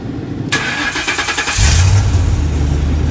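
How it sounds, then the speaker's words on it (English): A Ford Crown Victoria car engine in an F100 frame swap cranks with a rapid rhythmic starter whir for about a second, then catches and settles into a steady low idle, close by. "Car starts."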